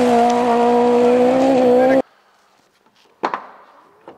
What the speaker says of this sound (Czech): To má nejlepší zvuk ze všech aut, který jsem kdy měl, je tohleto